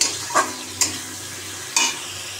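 Sliced onion and slit green chilies fry in a pan with salt and turmeric, giving a steady low sizzle broken by three sharp scraping stirs, close by and with no voices.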